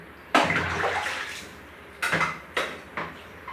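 Clothes being washed by hand in water, with several distinct splashes and sloshes: one long wet burst near the start, then three shorter splashes toward the end, close and moderately loud.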